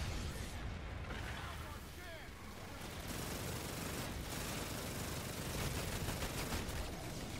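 Dense, sustained gunfire and explosions from a four-player speed run against Mephistopheles, a rapid continuous barrage that fills the whole stretch without letup.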